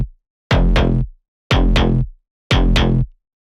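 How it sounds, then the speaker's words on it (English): A two-layer plug bass synth plays three identical short phrases. Each is a loud, punchy pair of quick notes, spaced evenly about a second apart with silence between, and there is no talking. "Then we have this plug bass, which is made out of 2 layers."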